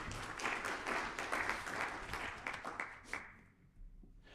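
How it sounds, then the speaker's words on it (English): Applause from the audience at a regional conference of heads of anti-corruption agencies, a fairly quiet, fluttering spread of clapping with a few sharper claps that thins out and fades near the end. "we clap hands while we are"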